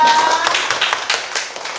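A group bursts into dense, close applause for a teacher at a junior high school, a crisp flurry of overlapping hand claps that runs steadily and tapers only slightly.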